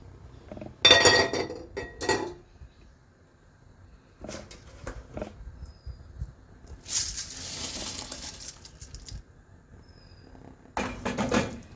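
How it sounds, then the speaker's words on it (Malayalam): Rice poured into boiling water in a pressure cooker pot for chicken biryani, with clinking, rattling bursts of grains and pot contact separated by quieter stretches of bubbling, plus a longer hissing pour. "തിളച്ച് വന്നിട്ടുണ്ട്. നമുക്ക് റൈസ് ഇട്ട് കൊടുക്കാം."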